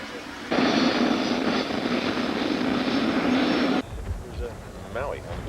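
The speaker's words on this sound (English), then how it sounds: "Now the helicopter is in the air." A helicopter flies overhead at a film shoot on Maui, a steady loud rotor and engine roar holding for about three seconds before cutting off, followed by quieter background with brief speech.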